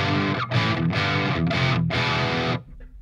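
Electric guitar played through a Marshall JVM410H amp in green mode distortion: four loud, saturated strummed chords with brief gaps between them, then a short ring-out into near silence.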